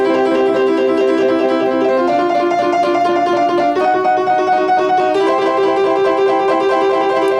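Piano plays a repeating boogie-woogie figure with rolled chords starting on E, each change arriving every couple of seconds, steady and fairly loud with no voices.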